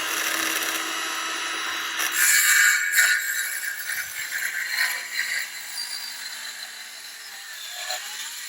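A saw cuts a dado into wood for a DIY roof, making a continuous close rasping and grinding noise. The cutting swells in short bursts partway through, and no one talks.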